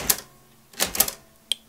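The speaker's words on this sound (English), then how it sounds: "I'm just going to actually go lower down and try and type here something" A few keys struck on a We Are Memory Keepers typewriter, set low on the page. Three or four sharp, close mechanical clacks come alone and irregularly spaced.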